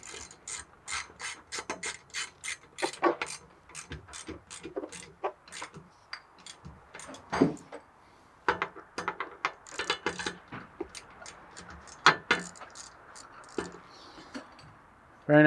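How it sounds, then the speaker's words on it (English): A ratchet clicks repeatedly as clamps on a DIY car camera rig are tightened, in close bursts of quick pawl clicks with short pauses between strokes. "just making sure everything's tight"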